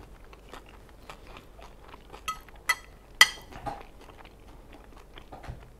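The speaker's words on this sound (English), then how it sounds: "Get a little bit soggy in the eggs, but you still get a little bit of that crunch also." Crunchy Mexican migas with tortilla crisps softened in scrambled eggs are chewed close up, giving scattered crisp bites and crunches, with a few light clinks of cutlery or dishes in between.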